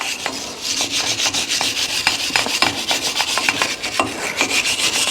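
Steady scrubbing and rasping as dirt, rust and scale are rubbed off a Kawasaki KRX wheel hub around the lug nuts and studs, a close, continuous brushing texture with repeated sharp strokes and no talk.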